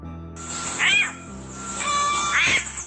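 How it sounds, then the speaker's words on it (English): A kitten being crushed by a snake near a snake hole cries out in two strained, rising-and-falling meows about a second and a half apart, close and fairly loud over a faint steady insect-like hum. "Here, we have a kitten being strangled by a snake near the snake hole,"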